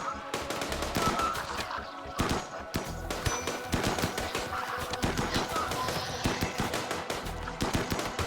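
Colonists trading gunfire in the colony game RimWorld: a steady, busy stream of overlapping rifle shots and bursts, moderately loud and continuous throughout.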